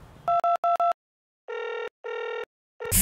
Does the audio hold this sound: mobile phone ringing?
yes